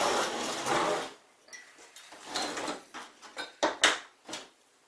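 Ratchet working loose the oil pan bolts on an MK4 1.8T engine, with a burst of clicking followed by several short, separate metallic clicks and clunks, close and fairly quiet.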